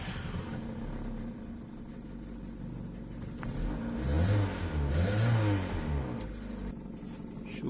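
2005 Kia Cerato car engine with a hard-start fault, cranking then catching and revving, a steady rumble that swells in a couple of rising surges midway, heard close and moderately loud.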